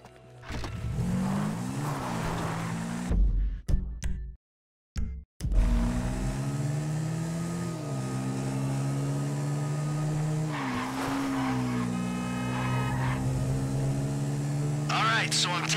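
A car driven in Grand Theft Auto V, with a steady engine drone that rises and falls as it revs and shifts, plus a brief dropout and some tire noise. Voices talk over the engine at times.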